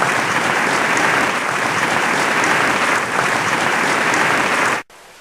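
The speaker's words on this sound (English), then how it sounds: "Why don't we give them a round of applause?" Dense, steady applause from a studio audience at an evening show, sustained for several seconds before cutting off abruptly near the end.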